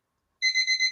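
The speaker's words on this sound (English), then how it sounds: "I thought that was my alarm." An electronic alarm gives a short run of four quick, evenly spaced beeps, clear and moderately loud after a moment of silence.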